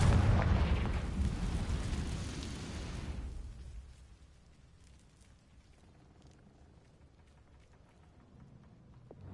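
A Confringo spell explosion in the video game Hogwarts Legacy bursts loudly with a deep rumbling blast, then fades over a few seconds into a faint low background.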